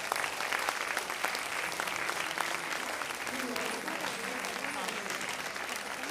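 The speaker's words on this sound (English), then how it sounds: "Please give them a huge round of applause." Audience applause at a staff recognition ceremony, steady dense clapping throughout with crowd noise, faint voices mixed in.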